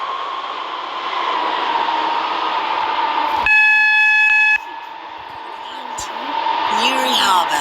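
Class 730 train running in the Stepford County Railway video game, a steady rolling hum with a loud tonal horn-like tone for about a second midway, while a station announcement voice talks throughout.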